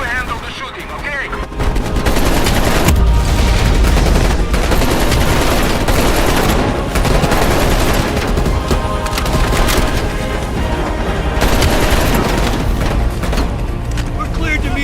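Dense, continuous gunfire from a Call of Duty video game mission, loud and sustained with rapid bursts, impacts and splintering crashes filling nearly the whole stretch.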